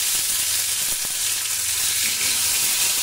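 Tomato with spices, cinnamon and dried chilli fries in a pan, giving a loud, dense, continuous sizzle close up with a faint clink or two.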